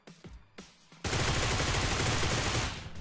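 Gunfire in the mobile battle royale game BGMI, a couple of sharp single shots followed by a dense, sustained burst of rapid automatic fire that lasts about two seconds, loud and close.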